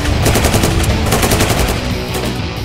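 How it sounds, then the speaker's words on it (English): Sustained rapid bursts of machine gun fire from a Kongsberg Protector remote weapon station, loud and close, a dense rattling stream of shots with no voices. "When lethal force is required, Protector's integrated machine gun can eliminate hostile targets"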